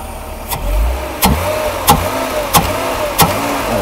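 Restored 1993 Mercedes W463 300GE engine blipped by hand on the throttle during a post-rebuild test, giving five quick, evenly spaced revs that rise sharply and fall back to a low idle, close and loud.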